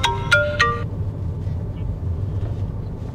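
A phone ringtone sounds in a few quick electronic bursts at the start, then stops, leaving low background rumble.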